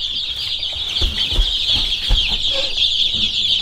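A group of baby chicks peeps continuously while eating feed, a dense high chirping chorus close by with a few soft low thumps beneath it.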